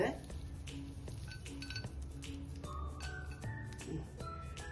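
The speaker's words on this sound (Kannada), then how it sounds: "ನಾ ಸ್ವಲ್ಪ ಮಸಾಲ ಶೇಂಗಾ ಹಾಕೋತಾ ಇದ್ದೇನೆ ನೋಡ್ರಿ." Masala peanuts tipped into a bowl of crispy sweet corn masala, giving a steady run of light clinks and rattles against dishware, close and fairly quiet, with a soft background murmur throughout.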